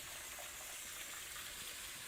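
Cold tap water pours steadily into a container of potatoes being rinsed, a faint, even gushing hiss with no break.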